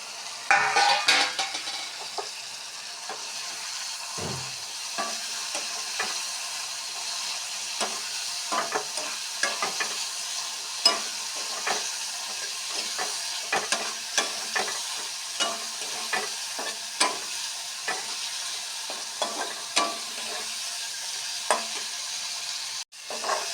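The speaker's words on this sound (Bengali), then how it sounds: "মশলাগুলি মোটামুটি বেজে তেল ছেড়ে ছেড়ে আসছে এখন দিয়ে দিচ্ছি আলুগুলি যেগুলি বাজা করে নামিয়েছিলাম" Fried potatoes tossed into spices sizzling in hot oil for a Bengali hilsa curry with bottle-gourd leaves, giving a steady close frying hiss broken by repeated stirring scrapes and clinks.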